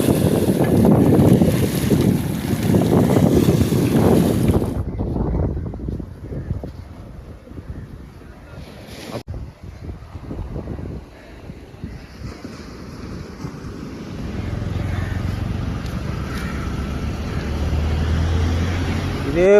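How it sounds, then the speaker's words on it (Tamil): A big fishing boat from the Thirukkadalur fishermen's association approaching at sea off Trincomalee, heavy wind buffeting and engine rumble at first, fading to quieter water and a low distant motor hum with faint voices. "பெரிய போட் வருது."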